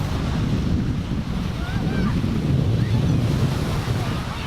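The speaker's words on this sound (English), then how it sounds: "They got some big waves." Big ocean waves at a beach roll and wash in a steady, close roar, with heavy wind buffeting the microphone throughout.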